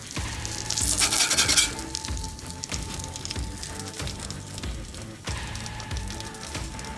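A smash burger patty hits a Blackstone griddle for a patty melt and sizzles loudly and steadily, with an early burst of crackling and a few dull scrapes or taps throughout.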